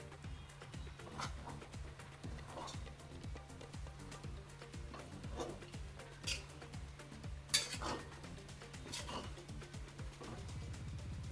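Sago upma with grated coconut is stirred in a pan, and a spoon scrapes and clinks against the metal in faint, irregular strokes over a low, steady hum from the kitchen.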